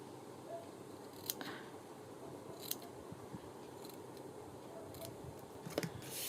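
Scissors snip lace trim on a small papier-mâché slipper, producing a few distinct, fairly quiet crisp cuts spaced out over a soft background.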